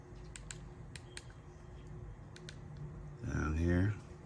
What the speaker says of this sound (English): The keyboard works as well. Let's show you that.